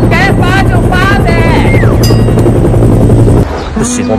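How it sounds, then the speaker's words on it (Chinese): A helicopter thrums loudly and steadily close by, its heavy rotor drone filling the whole stretch while voices talk over it and a few brighter tones rise above the noise. "这飞机得花多少钱啊？"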